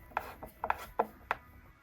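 Screws on a JBL 8-inch subwoofer being tightened by hand with a screwdriver: four distinct ratcheting clicks at a steady pace, close up and fairly quiet, with no talking.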